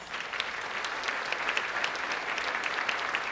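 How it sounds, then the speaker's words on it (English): Luncheon audience applauding at a United Way charity event, dense continuous clapping from a large crowd filling the room evenly from start to finish. "Let's give them a round of applause."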